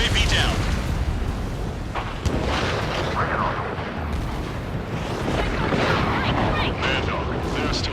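A missile explosion destroys a UAV in an air-combat video game, part of a loud, continuous rumbling roar of blasts and engine noise that stays dense and steady throughout.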